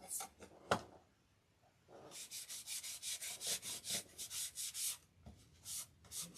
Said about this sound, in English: we're going to put wax on the whole outside here